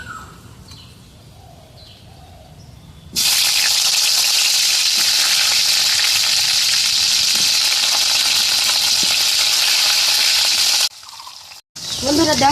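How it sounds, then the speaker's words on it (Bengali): Drumstick (sajne) stalks fry in a pan in loud, steady hot-oil sizzling that starts abruptly after a quiet opening and cuts off near the end. "এখন আমি ডাঁটাটা ভেজে নেব।"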